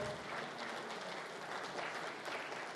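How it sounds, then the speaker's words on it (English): Attendees at the TICAD8 business forum opening ceremony in Tunis's Laico Hotel give a round of applause, a dense, fairly quiet wash of clapping that continues evenly throughout. "So please give them another big round of applause."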